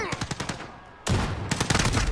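Rapid automatic gunfire in Call of Duty, with a burst of evenly spaced shots followed by a short pause and then a louder, denser volley of shots close by.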